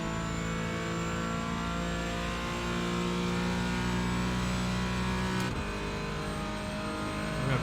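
Porsche 718 Cayman GT4 engine in iRacing, a steady high-revving drone as the car accelerates, with a brief dip from a gear change before it climbs again, heard without talk.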